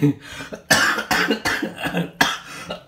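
Several harsh coughs in quick succession, close and loud, with brief gaps between them.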